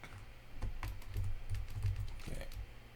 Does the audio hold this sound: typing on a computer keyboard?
yes